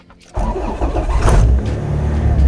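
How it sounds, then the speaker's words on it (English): Car engine fitted with an Innovate wideband sensor cranked and catching after a quiet moment, then settling into a steady, loud, close rumbling idle, with no voices over it. "So I'm gonna go ahead and start the car."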